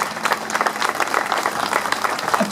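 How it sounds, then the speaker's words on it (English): An audience at the opening of the Bob Dylan Center breaks into dense, steady applause, many hands clapping at close range without pause. "Let's applaud them."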